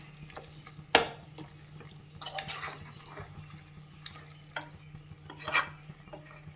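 Masala for mutton biryani frying in a pan and stirred with scraping strokes, a sharp clatter near the start and later sizzling bursts, quiet and close with no talk.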